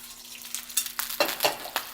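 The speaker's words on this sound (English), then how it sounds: "All we're doing is finishing and browning the lamb." Sous vide rack of lamb searing in a very hot pan, a bright steady sizzle with bursts of spitting fat growing louder toward the end, close up and without talk.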